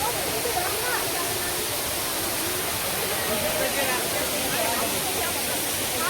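Dudhsagar Waterfall in Goa roars as a steady, loud, broadband rush of falling water, unbroken and even throughout, with no distinct events standing out.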